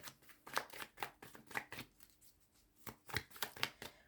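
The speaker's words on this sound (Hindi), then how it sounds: "एक और कार्ड लेंगे।" Cards being shuffled and drawn from a deck during a tarot-style card reading, a run of soft papery flicks and slaps in irregular bursts, close and fairly quiet, with no voices.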